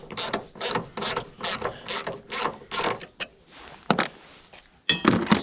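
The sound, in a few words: ratchet undoing 10mm bolt on Ford Fiesta ST150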